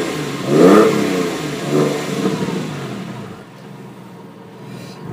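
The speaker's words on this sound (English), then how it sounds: "hold the phone out here a little bit so you can hear the engine." A Porsche 996 engine with a sports exhaust revs up twice in quick surges, then settles to a lower, steady drone with a throaty exhaust tone.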